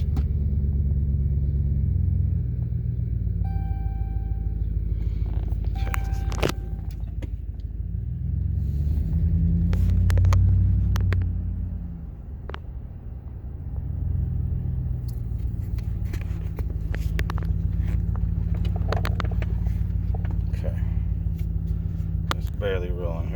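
A car with a 545RFE automatic transmission is restarted and left running, giving a low steady engine rumble with a brief rise near the middle, under talk from people in the car.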